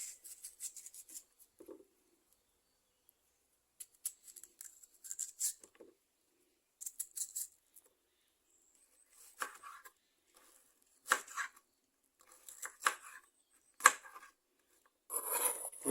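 Raw sour mangoes being peeled and cut for a prawn and mango curry, sparse crisp cutting and scraping strokes in short irregular bursts with quiet pauses between, close and fairly soft.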